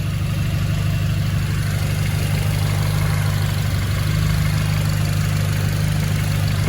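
A Honda Accord with a K24 engine idles after a starter replacement, a steady, even low hum with a faint regular pulse, close and continuous with no revving.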